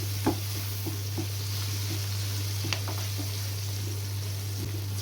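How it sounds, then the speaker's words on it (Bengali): Shrimp frying in a pan with chopped garlic and onion, a steady close sizzle with a few soft clicks of stirring over a constant low hum. "চিংড়ির সাথে ভালো করে একটু ভাজবো।"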